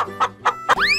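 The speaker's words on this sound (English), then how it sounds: "Chicken." A cartoon chicken clucks three times in a steady rhythm, loud and close, the last cluck rising into a sliding squawk.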